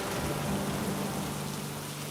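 Steady rain pours in an animated story, a dense, even hiss of drops holding at the same level throughout, with no voices over it.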